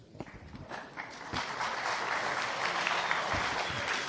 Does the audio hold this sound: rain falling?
no